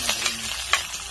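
Onion frying in a pan for ginisang ampalaya, a constant hiss of sizzling with a few soft scrapes and knocks from stirring, moderately loud and close.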